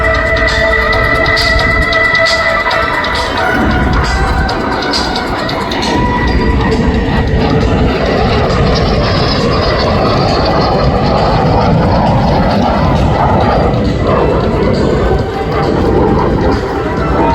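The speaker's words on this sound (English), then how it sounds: "You want a great picture of this Slovakian Air Force paint scheme on Mark's jet" A jet in a Slovak Air Force paint scheme roars loudly past the crowd at the Wings over Houston 2025 airshow, its engine noise swelling and holding steady throughout, with a voice talking underneath.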